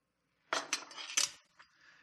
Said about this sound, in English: we're just going to stir this together and allow the meat to marinate